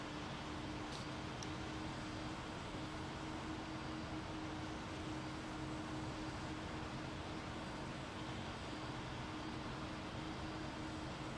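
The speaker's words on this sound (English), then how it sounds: "The engines aren't, like, stupidly overwhelmingly loud in the cockpit, which I like." Steady, even jet engine drone of a PMDG MD-11F cargo airliner inside the cockpit in a flight simulator game, a broad constant rumble with a faint low hum, moderate and unchanging throughout with no talking.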